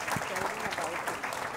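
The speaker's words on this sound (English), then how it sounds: "A round of applause." An audience applauds Dr. Narendra Bhandari at a literature festival session, steady clapping from many hands at moderate volume, with a voice talking faintly underneath.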